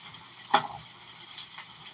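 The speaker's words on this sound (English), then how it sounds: "So now we gotta stir these onions up, break them down." Onions fry quietly in a pan while being stirred, with one sharp scrape or clink early on and a soft sizzle underneath.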